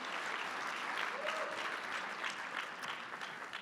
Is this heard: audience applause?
yes